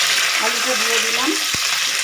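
Potatoes sizzle steadily in hot oil in a pan for a vegetarian alur dom, a dense, close frying hiss with a faint wavering tone through the middle and one sharp tap near the end.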